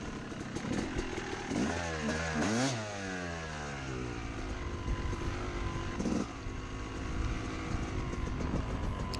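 Dirt bikes ride nearby with a loud, buzzing two-stroke-style engine note that rises and falls in pitch as the rider revs and shifts, steady throughout.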